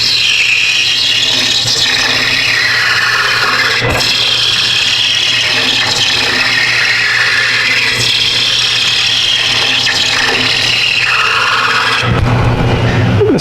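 A roughing gouge cuts a wood spindle turning on a lathe, giving a loud, continuous rasping, scraping chatter with the motor's hum underneath and shifting swells as the tool moves along the wood.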